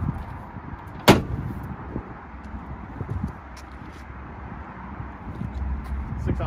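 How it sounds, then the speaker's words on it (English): The tailgate of a 2019-or-later Ram 1500 pickup with a bed cover is swung shut, landing as one sharp, loud slam early on, followed by quieter shuffling and faint handling noises. "then shut the tailgate."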